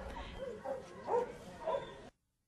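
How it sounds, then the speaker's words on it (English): Training dogs at an army base in Colombia, learning to sniff out explosives, give a few yelping barks and whimpers at moderate distance over a low background murmur before the sound cuts off. "Dogs at this army base in Colombia are being trained to sniff out explosives."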